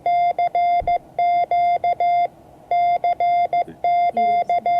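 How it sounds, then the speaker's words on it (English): Electronic Morse code beeps spelling CQ, a run of long and short tones at one steady pitch, repeated in groups with brief gaps, loud and close with nothing else heard. "Yep, that's CQ, which means I'm looking for somebody to"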